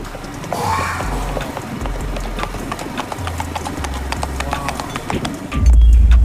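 Lipizzan horse hooves clip-clop in a steady walking rhythm over low background music, ending with a louder low rumble.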